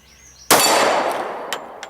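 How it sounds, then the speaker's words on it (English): Gunshot from defense ammunition that had been submerged in water, a single sharp loud report followed by a ringing decay and a few faint clicks outdoors. "So we'll keep shooting and see what's going on here."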